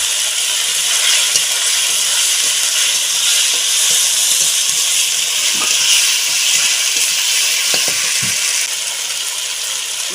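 Ginger, garlic and onion frying in a hot pan, a steady loud sizzle with bubbling and a few sharp crackles as tomato goes in, close and continuous with no talking.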